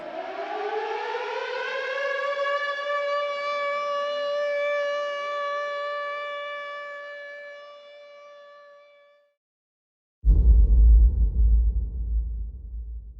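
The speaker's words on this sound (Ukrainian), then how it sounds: "Замість сплесків хвиль сьогодні тут лунають звуки повітряної тривоги та вибухів." A civil defense air raid siren wails steadily for several seconds in Ochakiv, Ukraine, during shelling, then fades and stops; after a brief silence a deep rumbling boom of an explosion follows.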